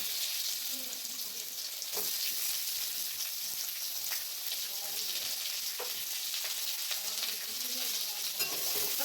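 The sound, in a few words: onions frying in oil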